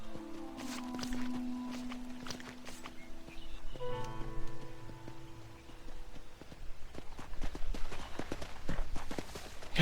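In the video game Red Dead Redemption, a horse's hooves clip-clop in uneven bursts, fairly faint and mixed with other game sounds and tonal effects, growing busier toward the end.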